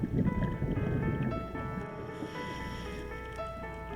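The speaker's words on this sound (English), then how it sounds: "It was very peaceful, just the sound of my own bubbles." Underwater while scuba diving in Belize, a diver's exhaled bubbles burble and gurgle in a soft rush, trailing off into quieter murmuring with faint tonal hums.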